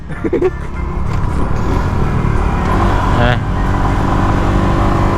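A 2021 Honda Wave i motorcycle hums steadily while riding, with continuous engine drone and road noise up close, and people talking over it.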